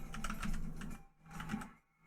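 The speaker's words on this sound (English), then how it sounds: "I'm just typing" Quiet, close keyboard typing in two short bursts of rapid key clicks separated by a brief pause.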